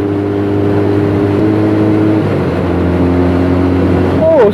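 A Benelli TNT300 motorcycle holds a steady, loud engine drone while being ridden, its pitch holding level and then shifting near the end, with wind noise and some voice under it.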